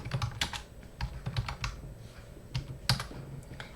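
Someone types a Gmail label name on a computer keyboard, soft irregular key clicks in short bursts with small pauses, close and fairly quiet with no voices.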